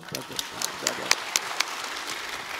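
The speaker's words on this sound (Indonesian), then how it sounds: "Tepuk tangan dong." Church congregation at a service claps in a scattered, moderately distant round, individual sharp claps standing out over a softer patter, with talk mixed in.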